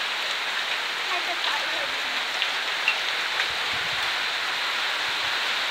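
Steady rain pours down in an outdoor garden in Paphos, Cyprus, a dense continuous hiss with a few closer drips and patters standing out, no voices heard.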